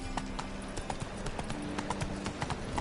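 Horse hooves galloping in The Witcher 3, a fast, even clip-clop rhythm up close, moderately loud and continuous for a few seconds.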